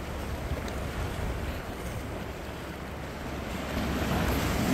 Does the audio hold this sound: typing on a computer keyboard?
no